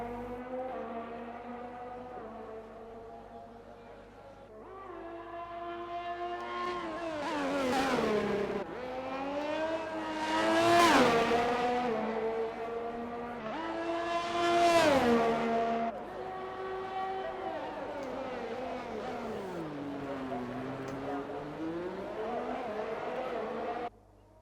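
F1 cars on track in a Canada Grand Prix racing game, engine whines rising and falling in pitch as cars rev up, sweep past and fade, steady and fairly loud across the stretch.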